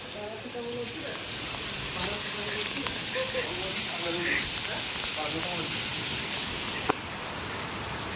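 Steady rainfall pours down outdoors in Dhenkanal, a constant hiss of drops spread evenly across the whole stretch, with a few louder splats standing out and voices talking faintly underneath.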